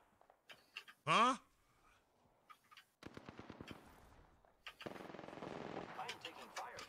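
Gunfire in the Apex Legends video game, short bursts of rapid automatic fire and a sustained volley toward the end, mixed with game effects and a player talking over it.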